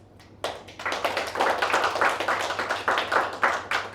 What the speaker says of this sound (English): Give a big round of applause to each one of you